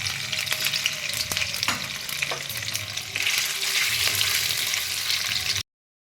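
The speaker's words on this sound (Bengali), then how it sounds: "পনিরটা একটু হালকা করে ভেজে আমি তুলে নেব।" Homemade paneer pieces fry in oil in a wok, giving a steady, loud sizzle with a few stirring clicks and scrapes, and no voices.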